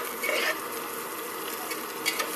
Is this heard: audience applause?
no